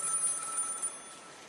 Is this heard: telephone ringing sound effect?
yes